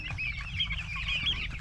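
Fifteen-day-old broiler chickens cluck and chirp together in a dense, steady chorus of overlapping high peeps and soft clucks, close by and continuous.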